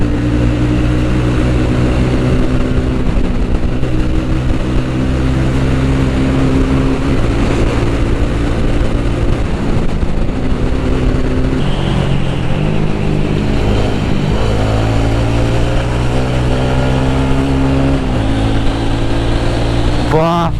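A motorcycle ride with a steady, loud engine drone and wind rush running continuously, close to the rider, with shifting engine pitch as the bike moves along.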